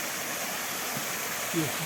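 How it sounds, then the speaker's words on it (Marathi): A small waterfall in a Konkan village at night gives a steady, wash-like roar that stays constant throughout, with a faint murmur of voices near the end. "बघा मित्रांनो हा धबधबा आहे"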